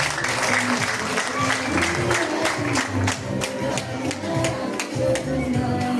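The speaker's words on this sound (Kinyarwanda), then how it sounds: "tubashimire cyane n'amashyi menshi batambuka" A wedding crowd applauds the couple at a Rwandan wedding ceremony. Brisk, continuous clapping goes on for several seconds, mixed with crowd noise, voices and a few cheers.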